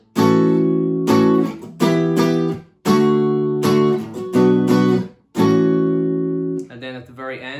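Guitar strumming the chorus chord progression: bursts of strummed chords separated by short stops, loud and close, with a voice coming in near the end.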